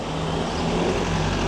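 Steady road traffic at a stop along a route in Canadian smoke haze: a continuous broad rumble of cars and heavier vehicles nearby, even in level, with a low engine hum throughout and no clear single pass-by.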